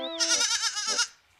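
A goat lets out a single loud, wavering bleat lasting about a second, close by, fading quickly into quiet.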